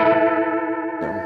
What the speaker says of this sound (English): Really nice Leslie sound